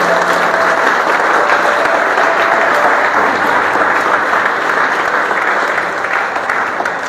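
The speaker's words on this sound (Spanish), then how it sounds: "Ese plan de Dios merece un fuerte aplauso." A church congregation applauds loudly and steadily in a dense, sustained wash of clapping that fades slightly toward the end, with no speech over it.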